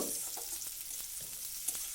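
Finely chopped onion fries in a pan with oil, giving a steady close sizzle broken by a few soft stirring clicks, with no voices.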